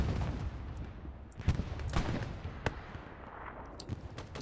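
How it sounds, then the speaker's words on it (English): Distant explosions and scattered gunfire on a World War II battlefield in the Hell Let Loose game, a muffled rumbling boom followed by sharp cracking shots over a steady low background roar. "Explosion."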